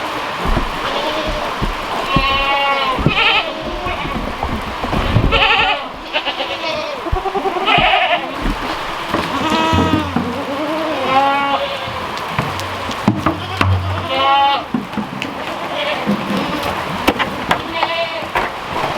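Goats bleating repeatedly in the rain, begging as they crowd under a shelter, with overlapping cries close by over steady rain noise and some human voice in the mix.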